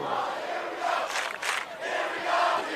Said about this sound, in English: if you're hearing this loud crowd